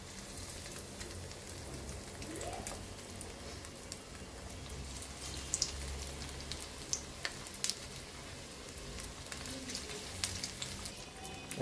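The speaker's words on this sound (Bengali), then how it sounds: "এখন একটা কড়াইয়ে তেল দিয়ে তেলটাকে একটু মৃদু আঁচে গরম করে নিতে হবে। এখন চিকেন এর মধ্যে ছেড়ে দেওয়া হচ্ছে।" Chicken pieces frying in hot oil in a wok for Chinese-style fried chicken, giving a steady, rain-like crackle and sizzle that runs unbroken throughout, with a few sharper pops.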